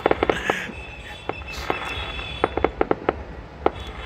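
Fireworks at the Pushkar Fair in India, a scatter of sharp bangs and crackles, some in quick clusters, heard from a moderate distance over faint background noise.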